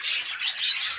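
Rapid, bright chirping from yellow pet birds, close and continuous twittering over a short stretch with no voices.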